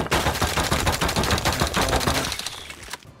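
Rapid automatic gunfire from an extended-magazine rifle in the survival game Rust, a loud, dense burst of shots fired in quick succession for nearly three seconds before cutting off abruptly.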